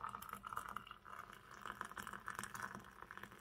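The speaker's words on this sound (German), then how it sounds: "bevor ich das Wasser aufgieße" Hot water from a kettle pours onto herbs in a cup for tea, a steady splashing trickle with gurgling pulses, close and fairly quiet, with no voices.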